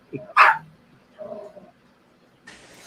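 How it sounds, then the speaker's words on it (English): A dog gives a sharp bark followed by a softer yip, with quieter mumbled sounds and a brief burst of noise afterward, heard at moderate distance in a quiet room. "And the damn dog."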